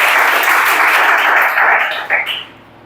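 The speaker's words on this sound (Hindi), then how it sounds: "चलो ताली बजाओ जी।" A classroom of students claps on cue during a quiz lesson, brisk dense applause close and loud for about two seconds, then a last flurry of claps before it fades out.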